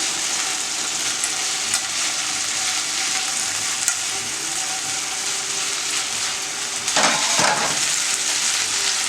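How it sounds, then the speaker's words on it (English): Chicken chop suey stir fry sizzles steadily in a hot pan, with a brief louder burst of stirring and scraping near the end; no talking. "Alright, give that a stir."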